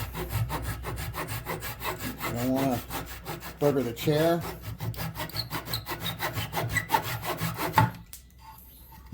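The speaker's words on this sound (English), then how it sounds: "I'm gonna come in and I'm going to cut the excess off by sticking out." A hand saw cuts off protruding half-inch wooden dowels on a 45-year-old office chair. Quick, regular back-and-forth strokes sound close and crisp under a brief spoken remark, then stop abruptly near the end.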